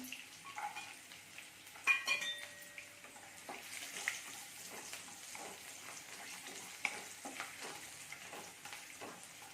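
Cashews sautéed in a tempering of hot oil for a fasting varai khichdi, a faint close sizzle with light spatula stirs and scrapes and a few metallic clinks.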